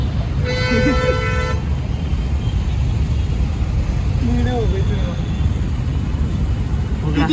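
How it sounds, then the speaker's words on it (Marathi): A car pulls up on a roadside with a steady road rumble and a long horn toot at the start, while people talk nearby. "ही आली आमची गाडी"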